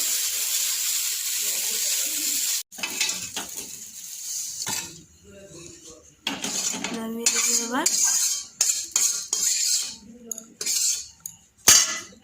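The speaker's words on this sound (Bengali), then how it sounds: "এখানে মা চাউমিন ভেজে নিচ্ছে" Chowmein is tossed in a home kitchen pan with loud metal utensil scrapes and clanks, a soft sizzle, and bursts of running water between the strokes.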